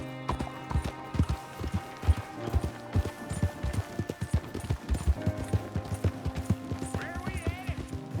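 Hooves clip-clop rhythmically as a horse gallops in the video game Red Dead Redemption 2, close and steady, with occasional whinnies and game ambience mixed under the footfalls.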